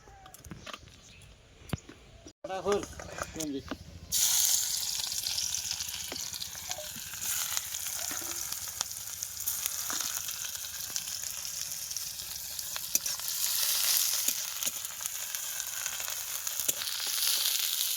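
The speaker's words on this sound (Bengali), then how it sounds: "কড়াইতে তেল দিয়ে দেবো এবার।" Hot oil sizzles loudly and continuously in a wok on a new outdoor clay stove after a few clinks, the crackling hiss swelling and persisting with occasional scrapes.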